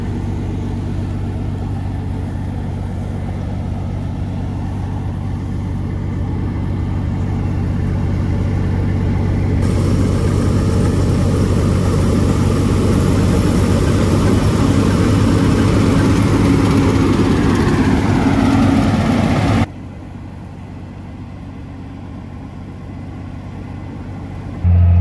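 Farm truck engine running at a steady low drone, swelling louder through the middle before dropping back to a quieter idle-like hum near the end.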